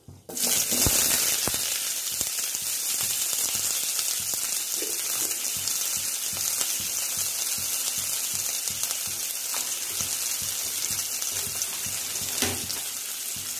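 Chopped large onions sautéing in hot oil with cloves for chana masala give a steady, loud, close sizzling hiss that carries without a break from start to finish.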